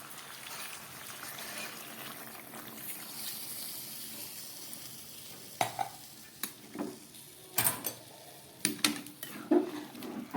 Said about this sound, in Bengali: এবার আমি দিয়ে দিচ্ছি ভেজে রাখা এই বড়িটা, আর সঙ্গে দিয়ে দেবো একটু জল